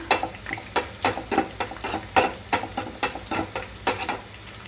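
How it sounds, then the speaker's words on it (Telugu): Ivy gourd (dondakaya) pieces frying in a pan with cumin, curry leaves, garlic, asafoetida and chillies: regular rhythmic scraping strokes as the pieces are stirred, about three per second, over a soft sizzle, close and clear with no talk. "దొండకాయలు వేగుతున్నాయి"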